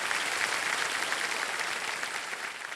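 A studio audience at the quiz show Kaun Banega Crorepati claps loudly for a contestant's wife, with dense, sustained applause that stays steady and close.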